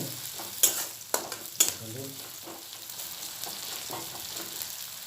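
Onions fry in a pan for an Odia-style rohu fish and potato curry, sizzling steadily up close while a utensil stirs with a few sharp scraping clanks near the start, no one talking.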